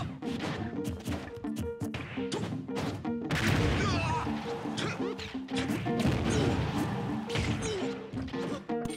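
Smash attacks land in a fighting video game while the fighter holds a gyro item, a dense run of sharp game hits, thuds and crashes layered over busy music and effects.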